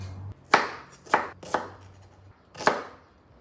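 Four sharp knife chops through onion on a cutting board, irregularly spaced with a pause before the last, close and clear with no talking.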